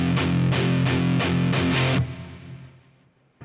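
Heavy distorted guitar power chords pulse in a steady row of eighth-note hits, the last two hits as sixteenth notes, ending on a final ringing chord that decays into quiet.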